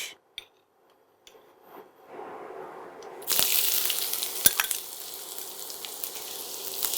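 Chopped onion, two tablespoons, hits hot oil and bursts into a loud, steady sizzle after a few quiet seconds of faint clatter, with the frying hiss continuing and a sharp tap partway through.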